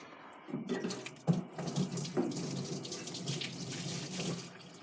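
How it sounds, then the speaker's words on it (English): Water gushes steadily from a hose into a drain pan beneath a 1947 Dodge truck with a Cummins diesel, a close, continuous splashing stream with no talk. "point the hose at the drain pan underneath"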